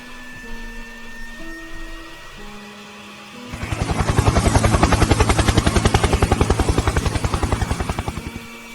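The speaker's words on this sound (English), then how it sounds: "Their chopper will be here soon." After a quiet electronic tone sequence, a helicopter's rotor suddenly thumps loudly and rhythmically, close and steady, with a rapid chopping pulse.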